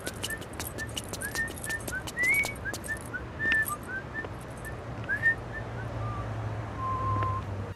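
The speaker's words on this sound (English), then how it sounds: "the first time we're exposed to it is at the start of the game, where we hear him whistle it outside of his apartment" A jaunty theme tune is whistled by Travis in a Wii video game outside his apartment, a bright melodic line of short rising and falling notes over a low steady hum and faint background noise.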